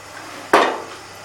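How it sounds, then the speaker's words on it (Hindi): A single sharp clink of a spoon against a pot of custard being stirred, one bright metallic knock that rings briefly and fades, close and clear with no talking. "साथ ही आपने चम्मच चला देना है।"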